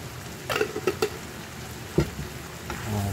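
Rabbit pieces coated in flour frying in a pan are stirred, giving a few scraping knocks and clatters over a soft background sizzle, with no talking.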